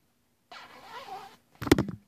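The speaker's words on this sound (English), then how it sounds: "Once I zip that down" A zipper on a plus-size jacket is pulled down: a short raspy run after a moment of silence, followed by a brief louder burst of clicking as the slider finishes, close and alone.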